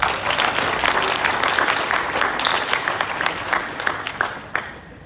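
Audience applause at a charity gala in St. Louis honoring sponsors: a full, dense round of clapping, strong at first and gradually thinning toward the end.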